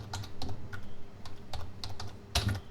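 Rapid keystrokes on a computer keyboard while writing C code in Visual Studio, a close, quick irregular clatter of taps in short bursts with one louder clack near the end, no talking.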